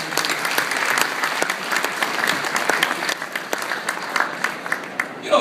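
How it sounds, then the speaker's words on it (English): Steady, full applause from an audience at a diplomatic speech event, dense and even throughout, with no voices over it. "let's give them a great round of applause"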